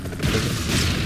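A loud, rumbling explosion in the game Broforce fills the moment, a dense roar of noise with no distinct voices.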